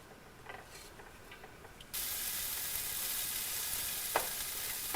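An anchovy dish with red and green peppers cooks in a pan. A quiet sizzle with light stirring taps suddenly rises into a loud, steady hissing fry.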